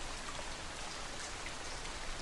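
Steady rainfall heard from inside a home, a soft, constant hiss and patter of drops on a surface, with no voices.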